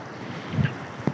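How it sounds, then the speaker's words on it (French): Strong seaside wind buffets the microphone in a short, loud gust of broadband rumble, with faint surf beneath it and no talking. "Il y a beaucoup de vent."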